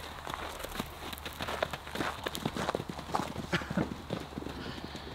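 Rapid clip-clop of horse hooves on hard ground, a quick irregular patter of many steps at moderate distance, with no talk.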